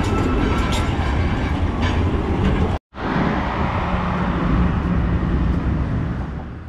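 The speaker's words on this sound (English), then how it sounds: "I boarded the Kabatis tram, which would take me to the end of the line." A Kabatas tram in Istanbul rolls along loudly and steadily, with a rumbling, rattling rail sound. A brief gap breaks it midway, then the same close, continuous noise resumes.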